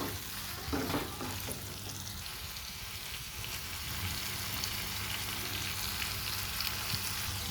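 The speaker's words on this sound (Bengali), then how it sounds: "একটা মিডিয়াম সাইজের টমেটো দিয়ে দিলাম আলুর সাথে ভালো করে মিশিয়ে দেবো" A medium-sized chopped tomato is stirred into frying potatoes in a pan for a thin egg-and-potato curry, giving a steady close sizzle with intermittent scraping stirs throughout, and no talking.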